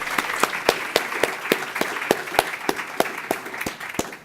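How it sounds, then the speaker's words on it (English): An audience at a college and career pathways summit at National University claps in a faint, fairly even rhythm for a few seconds, with no voices over it. "Can we give a round of applause for our host,"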